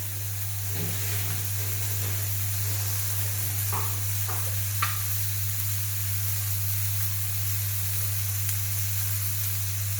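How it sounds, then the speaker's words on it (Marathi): Fenugreek leaf stir-fry (methi bhaji) in a hot pan, giving a steady soft sizzle with a few faint scraping strokes early on, over a constant low hum, with no talking. "व्यवस्थित हलवून घ्यायचं"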